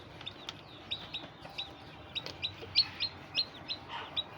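Young chicks in a coop cheep repeatedly in a quiet setting, a series of faint, high, short peeping calls spaced irregularly over low background hiss.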